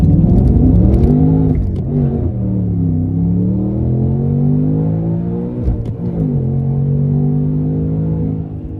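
A Ford Mustang FP800s accelerating hard up through the gears, its loud engine rising in pitch, dropping at each shift and climbing again, close and continuous.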